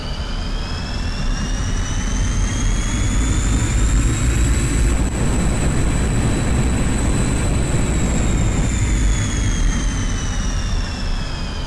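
A MiG-21bis jet engine in DCS World spools up with a steady roaring rumble and rising, then slowly falling whine tones, loud and continuous throughout with no voices.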